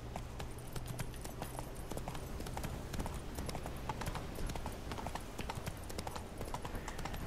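Roach the horse gallops in The Witcher 3, a steady rapid clip-clop of hooves running continuously with an occasional faint whinny, fairly close and without talk.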